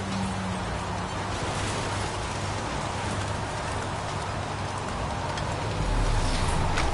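Rain falls in the video game Heavy Rain as a steady, dense hiss that holds at an even level throughout, with no voices.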